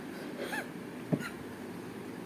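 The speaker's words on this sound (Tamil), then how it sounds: "அதனால தான் இருமல் வருது." A five-year-old child gives one short, faint cough, close by and otherwise quiet, with no talking around it.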